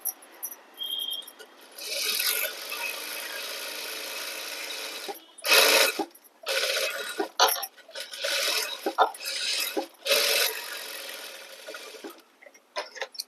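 A sewing machine stitches blouse fabric in several bursts of rapid mechanical whirring separated by short pauses, close up with no talk.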